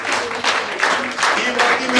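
Applause from a Russian comedy stage show audience, a moderate burst of clapping in a hall that swells in uneven waves, with a host's voice faintly mixed in.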